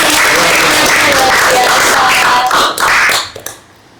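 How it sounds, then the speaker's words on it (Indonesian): A studio audience at a podcast about the Feast of the Body and Blood of Christ gives brisk applause with a few voices mixed in. The clapping stays full for about three seconds, then tapers off quickly and stops. "Tepuk tangan dari kita"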